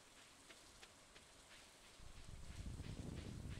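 Rain falling in the farming game Stardew Valley, a soft, steady patter with faint intermittent ticks that grows fuller and louder partway through.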